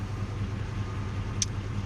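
A car engine idles right after being jump started, a steady low near rumble with a faint brief click partway through, no talking.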